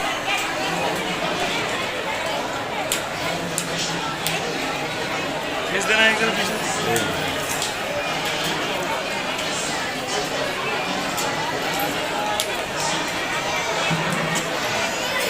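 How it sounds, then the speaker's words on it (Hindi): A large, dense crowd murmurs at the Kaliyar Sharif dargah on a Friday, a steady wash of many overlapping voices and shuffling with no pauses, continuous and enveloping throughout. "देख सकते हो यहाँ पर कितनी ज़बरदस्त भीड़ हो रही है।"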